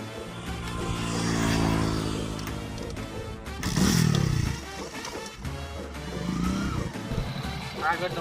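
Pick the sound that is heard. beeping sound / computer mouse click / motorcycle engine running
motorcycle engine running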